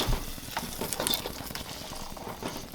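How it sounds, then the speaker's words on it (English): Baking soda being stirred into a hot, foaming peanut brittle mixture, close scraping and stirring with light bubbling sizzle and a few utensil clinks, no talk. "Mix that in there, which foams up also."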